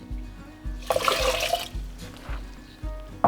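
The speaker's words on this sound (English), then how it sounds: "take our rinsed quinoa and add it to a medium-sized saucepan, along with 2 cups of water" Two cups of water poured into a medium saucepan holding rinsed quinoa, a close splashing pour of about a second followed by lighter trickles and clinks of the pot.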